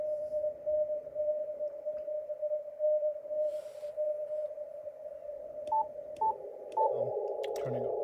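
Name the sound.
radio morse signal with filters off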